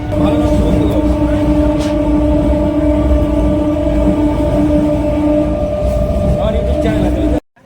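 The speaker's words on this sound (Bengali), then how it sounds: "আমি ওই ট্রেন থেকে নামলাম এখন কল্যাণী যাবো কল্যাণী ট্রেন ধরবো" A train at Kalyani station rumbles loudly and steadily with a low droning hum, close by and continuous for several seconds before cutting off abruptly.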